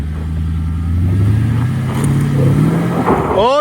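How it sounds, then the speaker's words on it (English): A Porsche Cayenne off-road climbing uphill under hard throttle, its engine droning loud and steady as it rises in pitch, close and continuous with some rustling near the end. "Alright, now, give a hard gas going up."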